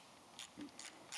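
A 4mm Allen key tightens a screw with a lock washer and flat washer on a Triumph Thruxton RS motorcycle, making a few faint, sparse metallic clicks up close.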